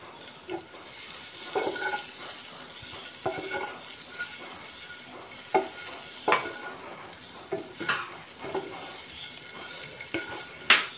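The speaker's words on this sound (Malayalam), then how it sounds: "ലോ ഫ്ലെയിമിൽ നമുക്ക് ഈ മുട്ട ഇളക്കി കൊടുക്കാം." Quail eggs stirred in a pan over a low flame for a spicy egg roast with chilli powder, a soft steady sizzle under scattered scrapes and light clinks of the utensil against the pan, no talking.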